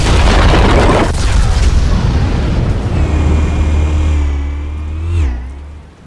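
Explosives detonate in the Telltale Batman video game: a loud, close boom that rolls into a long rumbling roar and fades with a falling whine.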